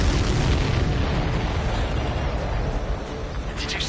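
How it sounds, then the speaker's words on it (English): A missile strikes a supply ship in the combat flight game Ace Combat 7, setting off a loud, sustained explosive roar that rumbles heavily and slowly fades over a few seconds. "Did you see that explosion?"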